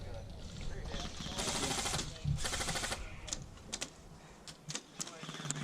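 Rapid bursts of airsoft gunfire crackle through an outdoor skirmish, sharp clattering volleys and scattered single shots at mid distance, with players talking over the shooting.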